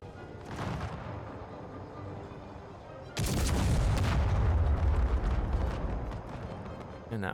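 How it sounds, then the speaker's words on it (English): Artillery booms and musket volleys roll across a large Empire: Total War battlefield, a dense, loud rumble of overlapping gunfire that swells sharply midway and stays heavy, with someone talking over it. "And that artillery's just barely missing."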